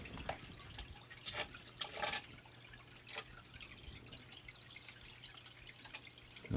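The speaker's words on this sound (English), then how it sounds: "let's just wash the rest of the material down." Water washes gold sampler material, a soft continuous trickle and dribble with a few louder splashing bursts, faint and close, with no voices.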